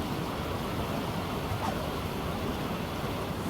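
Fast water rushing steadily along a lake route in Patagonia, a dense continuous roar close by with no pauses and no talk.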